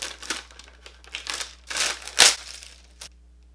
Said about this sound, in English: It's wrapped in this like cellophane type wrapping.